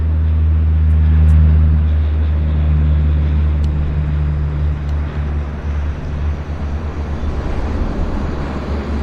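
Jet airliner, not a Q400 turboprop, taking off at Vancouver Airport: a loud, steady engine roar with a low rumble that stays strong throughout and slowly smooths as the aircraft climbs away.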